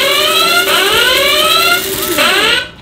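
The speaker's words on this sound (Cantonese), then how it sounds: "好嘈呢個鬧鐘" A bamboo-copter style flying toy alarm clock rings loud and close. Its shrill electronic tone sweeps over and over in a steady loop, then cuts out at the end.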